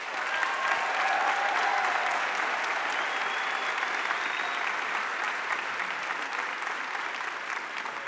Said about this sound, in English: Please join me in applauding our Master of Science graduates.